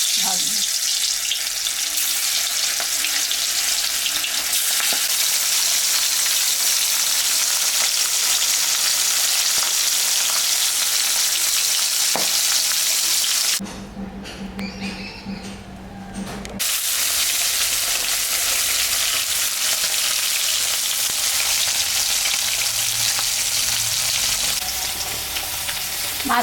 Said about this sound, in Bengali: তেল গরম হয়ে গেছে, আমি মাছটা ভাজবো।